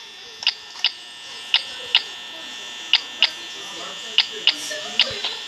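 A desk fan in the video game Five Nights at Freddy's, night 4, whirs as a steady thin drone, with sharp mechanical clicks repeating irregularly over it.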